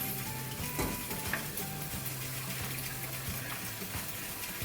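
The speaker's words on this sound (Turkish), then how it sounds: "Karıştırıyorum, karıştırıyorum." Stirring in a pot of Turkish chicken soup thickened with an egg-lemon liaison, steady scraping and swirling with a faint sizzle and watery movement, continuous and close at moderate level.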